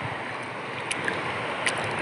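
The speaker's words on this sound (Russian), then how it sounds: "Ой, как волна бьет меня." Black Sea waves wash against a person in the water near Chernomorskoye in Crimea, a continuous loud surging rush with a few brief splashes, with no talking.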